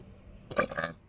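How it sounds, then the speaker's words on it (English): A single close burp from a man, a short throaty eructation lasting about half a second, rising out of a quiet room and trailing off. "I do believe in burping in your face, though. I just did."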